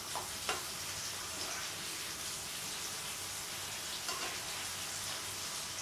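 Masala egg fry sizzling in a pan, a continuous close hiss of frying with a few sharp crackles and pops scattered through; no voices.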